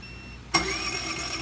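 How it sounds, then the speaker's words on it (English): An EcoFlow propane smart generator fires up abruptly after a quiet background hum, its engine catching at once and settling into a steady mid-pitched running drone. "And it started up right away."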